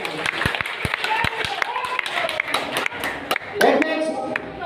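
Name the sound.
audience applause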